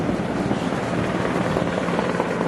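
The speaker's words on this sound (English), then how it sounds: "We got a helicopter now. So let's just kind of zoom in on those guys. It's a Coast Guard helicopter." Steady low rotor roar of a Coast Guard helicopter near Crystal Pier, San Diego, continuous and fairly loud, with wind rumbling against the microphone.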